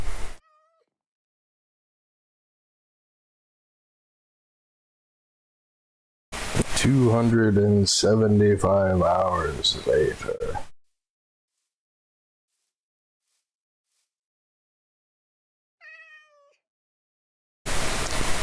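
A cat meows in Minecraft in a few short, clear bursts, separated by long stretches of silence, with talking heard around them.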